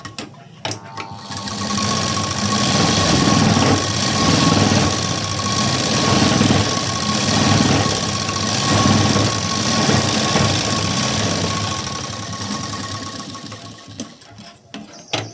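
Sewing machine stitching a press seam on a garment sleeve: a steady, loud whirring motor hum with fast rhythmic needle chatter running continuously for about twelve seconds, starting and stopping with brief clicks.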